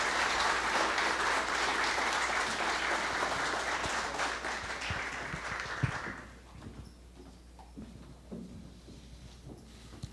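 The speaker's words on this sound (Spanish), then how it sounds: "pido un fuerte aplauso, por favor" Applause from the audience at the close of an academic ceremony marking an agreement signing, with dense, sustained clapping that fills the first six seconds and then thins into scattered claps and a quiet room.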